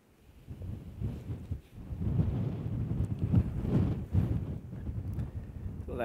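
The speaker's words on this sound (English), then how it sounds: "although it's very windy out there" Strong wind buffets the microphone beside a carp fishing lake, a loud, gusting low rumble that swells and fades without pause.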